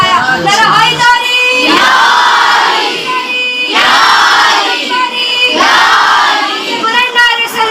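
A large majlis audience chants a Haidari slogan in loud, repeated collective shouts that swell and fall in a steady call-and-response rhythm, close and dense, with no speech over it.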